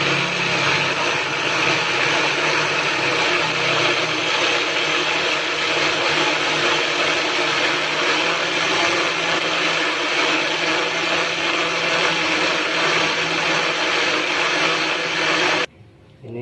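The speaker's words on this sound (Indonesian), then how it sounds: "Sudah di blender bumbu kaldunya" A blender grinds spices for beef broth, a loud, steady whirring roar running continuously for about fifteen seconds before cutting off abruptly.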